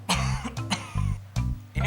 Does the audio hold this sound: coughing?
yes